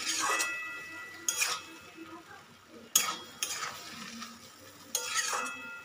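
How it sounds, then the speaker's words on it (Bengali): A spoon stirs taro stolons (kochur loti) in a cooking pot, producing intermittent scraping and clinking strokes in a few separate bursts over soft background sizzling. "এটাকে ভালো করে নাড়িয়ে"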